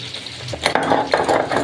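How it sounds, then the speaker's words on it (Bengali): Potato pieces that were rubbed with turmeric are fried in a pan, with a brief clatter and scrape of a utensil as they are turned, over a soft sizzle, close and fairly loud. "আলুগুলো ভেজে নেবো"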